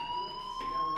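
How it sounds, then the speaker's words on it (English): A fire alarm rings in the video game Life is Strange, a steady electronic tone with stacked harmonics that holds unbroken and loud for the whole moment, with a faint swell of background noise partway through. "Hey, do you hear that fire alarm?"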